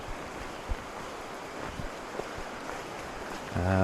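River water rushes at a trail crossing on the Elk River on a rainy day, a soft, continuous wash with a few small splashes, and a brief louder tonal sound at the very end.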